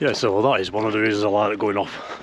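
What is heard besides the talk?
None of the usual background noises is heard.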